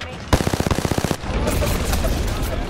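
Rapid automatic gunfire in Apex Legends, a loud, close burst of about a dozen evenly spaced shots, followed by a dense, noisy wash of firing and battle sound.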